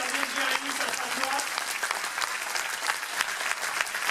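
Sustained audience applause fills a martial arts dojo gala hall, steady dense clapping from a crowd, fairly close and continuous throughout with a faint voice underneath.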